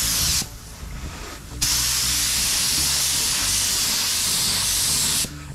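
An air spray gun hooked to an airline lays down a second coat of automotive clear coat in a long, steady close hiss, broken by a short pause near the start.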